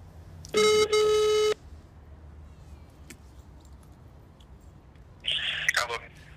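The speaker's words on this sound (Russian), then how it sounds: "Soitamme Serhii Antonoville ja kysymme" Outgoing phone call ringback: a single long electronic ring tone near the start, a quiet pause with faint room noise, then a second ring beginning near the end, heard clearly through a telephone.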